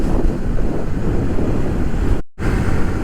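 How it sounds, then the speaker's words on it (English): Heavy wind buffets the microphone in a steady, loud roar while a Honda Trail CT125 is ridden, with a brief dropout near the end before the rushing noise resumes. "It's super windy today."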